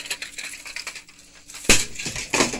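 A bootleg VHS tape being smashed: two sharp crunching cracks of breaking plastic, the second followed by a smaller crunch, close and loud after quieter rustling.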